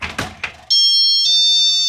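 An RV safety alarm sensor set to chime sounds two bright, ringing electronic tones, the second struck over the first's lingering ring, loud and close, following a few seconds of brief speech.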